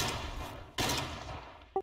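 Ship guns firing in a naval war video game during an amphibious raid, heard as a sharp, fairly loud blast partway through, followed by a decaying rumble and a brief second crack at the end.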